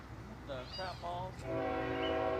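A mixed freight train sounds its horn, a sustained multi-tone blast that builds and holds toward the end, with people talking over it in the opening moments.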